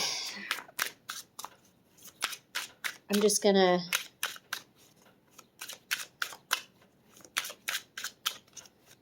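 Tarot and oracle cards are shuffled in quick, crisp riffling bursts that repeat in an irregular rhythm, close up, with someone briefly speaking between the shuffles.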